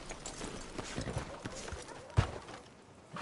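Horse hooves clip-clop steadily in the western video game Red Dead Redemption 2, under a low ambient bed with a single sharper thump near the end.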